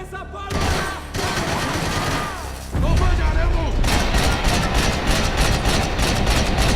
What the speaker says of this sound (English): I wake up to a bunch of guys shooting it up